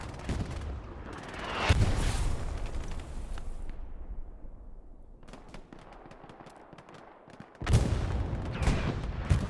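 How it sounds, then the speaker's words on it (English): Satchel charge explosions and gunfire in a World War II tank battle video game come as heavy booming blasts and rattling bursts, loud near the start and again near the end, with a quieter stretch of scattered shots between. "Satchel's still going off."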